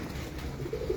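Pigeons on a rooftop in Multan give a short, soft, low coo that swells near the end, close by over a steady outdoor murmur.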